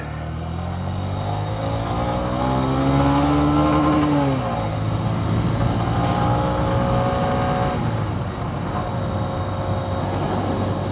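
A 2023 Honda CB125F fitted with a Yuminashi 28mm throttle body hums loudly and steadily while riding on a road, its engine note climbing through the revs, then dropping briefly as it shifts before settling again.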